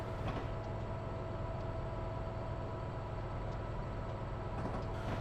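A Metra train led by an SD70MACH locomotive runs in Train Sim Classic, a steady loud rumble with a faint mechanical hum and no voices.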